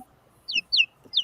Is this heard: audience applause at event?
no